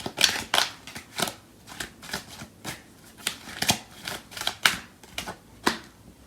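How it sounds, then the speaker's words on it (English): Tarot cards are pulled from a deck one after another, giving a sequence of crisp, close paper snaps and slides in an irregular rhythm with no talking. "So I'm going to pull out some more cards from the other deck."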